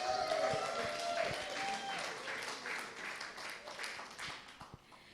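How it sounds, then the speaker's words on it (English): Applause from a seated crowd at a panel interview event, steady dense clapping that fades slightly over several seconds, with a faint tone and a few louder claps near the end. "give a big round of applause"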